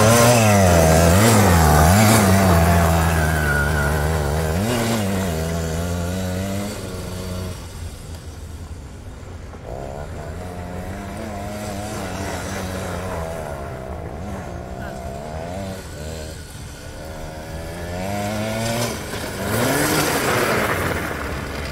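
A homemade 100cc go-kart engine buzzes and revs loudly as the kart runs and brakes, its pitch wavering with throttle, then fades to a lower drone before climbing again.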